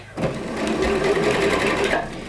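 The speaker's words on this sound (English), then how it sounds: "So just do a little front stitch, a little back stitch, and then stitch forward." A sewing machine stitches fabric for gathering in one steady, close, rapid run lasting a couple of seconds.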